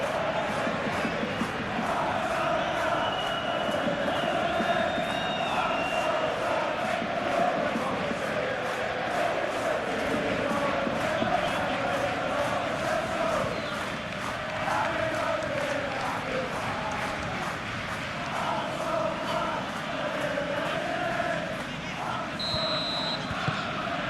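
A dense stadium crowd in a PES football match between Liverpool and Tottenham keeps up a constant roar with rhythmic chanting and occasional whistles, steady and loud throughout.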